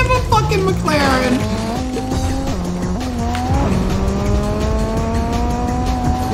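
A McLaren supercar driving in a racing video game, engine revving loudly and shifting through rising gears with squealing tires, continuous and close.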